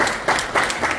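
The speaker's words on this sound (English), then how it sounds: "I'm sure they all join me to applaud you and for success" Audience applause at a press conference for the film "Political War" by Mukesh Modi, a brief dense burst of clapping from a crowd that swells in waves.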